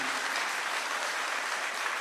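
A large crowd at a Congress gathering in Kashmir applauds loudly to welcome Rahul Gandhi, a dense, even roar of clapping that holds steady from start to finish without any voices over it.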